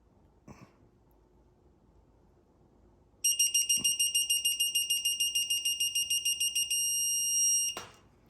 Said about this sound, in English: And then it'll beep once we get to 90.